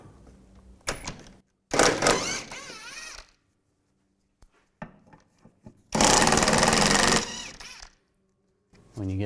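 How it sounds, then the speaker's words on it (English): A ratcheting socket wrench with a 14mm socket works the bolts on the lower trailing arm of a 1997-2001 Honda CR-V, giving two loud rapid clicking bursts separated by quiet clanks and handling noise. "I'm going to remove this bolt here and the other two bolts that are over here. Use a 14mm socket."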